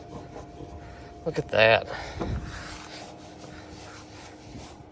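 An oversized grill cleaning cloth rubs across greasy grill shelves, a short burst of scrubbing strokes close by with a brief spoken comment in between.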